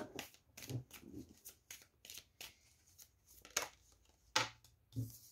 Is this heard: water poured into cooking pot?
no